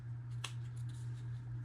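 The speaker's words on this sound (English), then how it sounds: "And then I'll take my scissors" A single crisp snip of scissors cutting faux leather over a steady low electrical hum, quiet and close.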